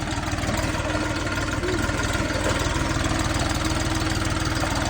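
An Orion 244 Lux tractor engine, fitted with an Indian-made rotary tiller, idles steadily nearby, a continuous low chugging rumble with a fast, even pulse and no voices.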